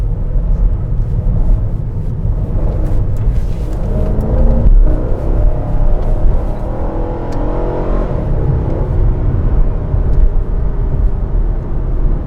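Chevy SS sedan cruising and cornering, heard from inside the cabin as a loud steady engine rumble with road and tire noise, engine note rising and falling through the turns.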